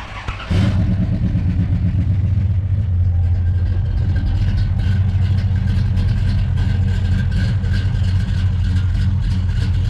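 A 1970 Dodge Challenger R/T with a 383 Magnum V8 fires up and idles steadily at a classic car show, a loud, deep, rumbling engine close by that continues unbroken after the start.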